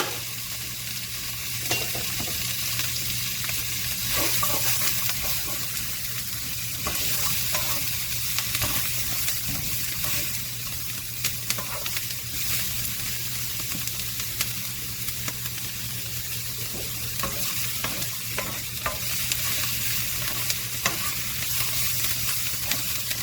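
Cajun trinity vegetables sizzle steadily in hot oil for fried rice, with a constant crackling fry and intermittent clatter of stirring throughout; no one speaks.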